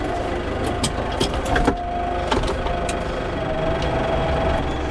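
A truck engine runs steadily while the truck reverses toward a trailer, a constant close diesel rumble with a few faint clanks and a thin whine over it.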